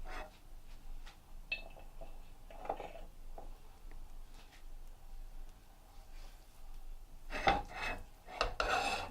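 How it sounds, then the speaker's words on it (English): Hands rubbing coriander powder and spices onto a whole fish for Bengali cooking, soft rasping and scraping strokes in irregular bursts, close, with a louder flurry of rubbing near the end. "Then add some coriander powder and give the fish a good rub."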